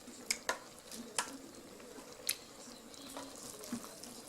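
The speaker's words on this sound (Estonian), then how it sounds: "Nüüd võib segada segamini need loorbeerlehed ära võtta siit pealt." Plov rice with meat and bay leaves, no tomato paste, stirred in an electric multicooker: a few sharp spoon clicks and scrapes against the pot, spaced irregularly over a faint background hiss.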